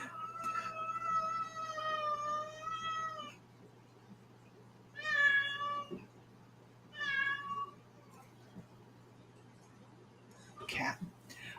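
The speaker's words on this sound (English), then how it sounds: "The cat's bitching at me." A house cat meows repeatedly nearby: a long drawn-out tonal cry, then two shorter calls a few seconds apart and a brief final sound, each clear against a quiet room with a low steady hum.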